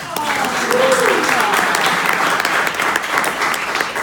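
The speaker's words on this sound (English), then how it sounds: "applause to Aaron" An audience applauds after a stand-up comedy class performance at a comedy theatre, a dense, steady wash of clapping from a crowd that stays loud throughout, with a voice briefly calling out near the start.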